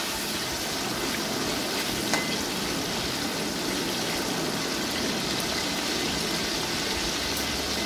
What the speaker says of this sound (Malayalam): അതുകൊണ്ട് നമ്മൾ ഇതുപോലെയൊന്ന് ഇളക്കി കൊടുത്തുകൊണ്ടിരിക്കുക.